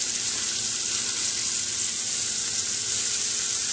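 Thin-cut top sirloin steaks laid flat in a hot pan sizzle loudly and steadily, a dense unbroken hiss with no talk.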